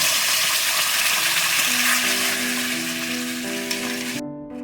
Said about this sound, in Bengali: এবার ওই তৈরি করে রাখা মশলার পেস্টটা দিয়ে দিচ্ছি